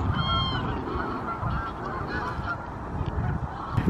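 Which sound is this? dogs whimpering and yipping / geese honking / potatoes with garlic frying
geese honking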